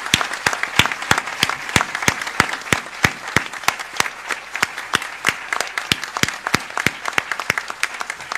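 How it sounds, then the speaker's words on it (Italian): Applause at a dedication ceremony for a paediatric oncohaematology ward in Taranto: a crowd claps steadily for several seconds, with dense, even hand claps throughout. "E qui scatta l'applauso anche lui."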